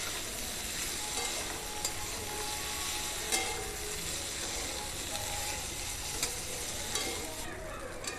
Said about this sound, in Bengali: আদা বাটা আর শুকনো লঙ্কার গুঁড়াটা ভালো করে নাড়াচাড়া করে মিশিয়ে নেব ডাঁটার সঙ্গে